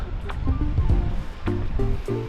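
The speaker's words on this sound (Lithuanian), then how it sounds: "Nu, Estijos jūra." Rushing, washing noise of Estonian sea waves breaking on a stony shore nearby, continuous and fairly loud, with a voice speaking briefly over it.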